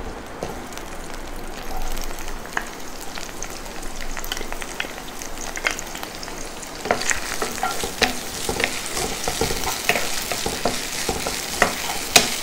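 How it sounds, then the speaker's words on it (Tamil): Finely chopped onions sautéing in hot oil with green chilli, curry leaves and whole spices for a hotel-style vegetable kurma, a steady close sizzle with occasional scraping stirs of a spoon, no talking. "வெங்காயம் கொஞ்சம் வதங்கிடுங்க."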